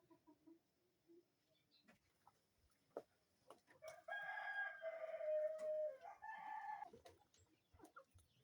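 Kienyeji hens and chickens on a poultry farm, among brooding mother hens: sparse clucks and faint taps at first, then a loud, drawn-out rooster crow in the middle, followed by more scattered clucking.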